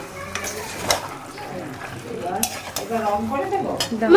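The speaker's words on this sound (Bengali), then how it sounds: "টমেটোটা দেওয়া হয়নি, টমেটোটা এখন দিয়ে দেবো।" Tomato is stirred into a spice mix frying in a pan, with scraping utensil strokes and soft sizzling while a person talks nearby.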